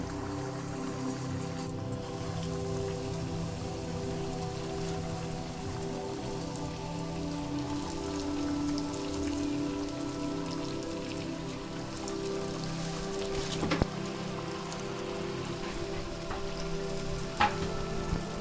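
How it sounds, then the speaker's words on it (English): Doughnut batter, chocolate doughnut, dropped one piece at a time into warm oil and frying over a low flame, giving a steady crackling rain-like sizzle with occasional louder pops, close and continuous with no talk. "now have made my oil warm to fry our donuts. So let's start putting one by one batter into it slowly"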